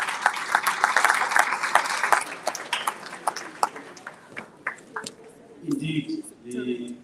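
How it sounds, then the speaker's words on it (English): Applause from an audience at a summit opening ceremony, a crowd clapping and cheering that thins out, with voices talking and calling over the fading claps. "Once more, a big round of applause for our minister."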